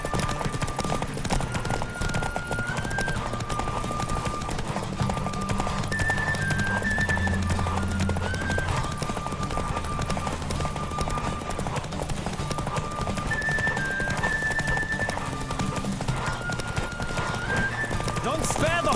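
Continuous hoofbeats pound at a gallop during a horse race in The Witcher 3 on a next-gen upgrade, with occasional neighs and whinnies over a steady game soundtrack and voices calling out.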